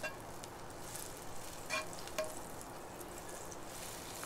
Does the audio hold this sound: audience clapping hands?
no